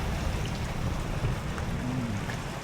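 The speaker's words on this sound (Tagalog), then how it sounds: "Maulan dito sa Coron." Steady rain falls in Coron, a dense, even hiss heard up close with no voices, while a faint tonal hum drifts underneath.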